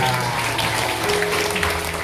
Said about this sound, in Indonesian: Kenapa kalau saya ngomong beri kemuliaan buat Tuhan selalu tepuk tangan?